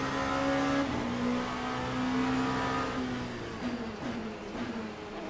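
Race car engines in the racing game Le Mans Ultimate, with an LMP2 prototype battling Porsches, whine and rev steadily at high pitch, with gear changes and faint tyre noise, loud and continuous without talk.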